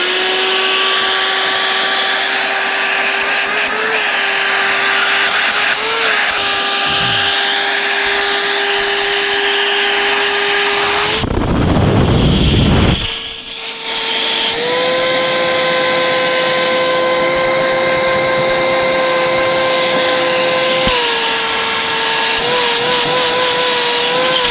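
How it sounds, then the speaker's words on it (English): Etenwolf Vortex S6 tire pump running in high volume mode, a loud steady motor whine with a strong tonal hum, briefly interrupted by a burst of rushing air noise before the drone resumes and continues. "Let's try the high volume pump."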